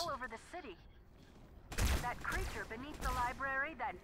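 Gunfire in Halo 2 during co-op play: a sudden loud burst of shots erupts midway and is followed by scattered further shots, with players talking before and after.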